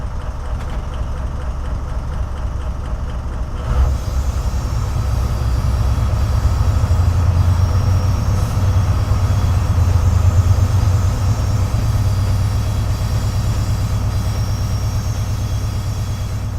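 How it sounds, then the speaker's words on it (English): A train engine in a South Wales Coastal rail simulation gives a deep, steady idling rumble, then swells louder and throbs heavily after a short clunk, holding a strong low drone to the end. "Oh, listen to that engine. Put headphones on and listen to the engine."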